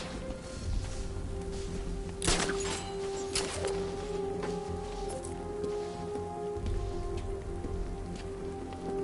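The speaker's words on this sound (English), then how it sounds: "What's with all the rain?" Steady rain in a Batman video game set in Gotham patters on surfaces with a soft continuous hiss, broken by a couple of sharper knocks and thuds.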